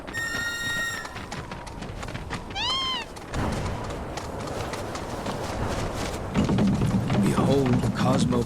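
Cat meows in Final Fantasy VII Rebirth, a few clear rising and falling meows near the start, followed by game background sounds and voices speaking.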